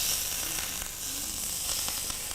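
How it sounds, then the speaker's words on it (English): Boiling peanut oil is poured over fish and gives a loud, bright, continuous sizzle with crackling pops that stays steady throughout, with no voices. "adding the boiling peanut oil across the top"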